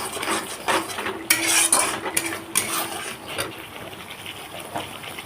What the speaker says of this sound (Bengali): 1 চামচ জিরে গুঁড়ো, হাফেরও অর্ধেক ধনে গুঁড়ো দিয়ে মশলাটাকে আমরা ভাজবো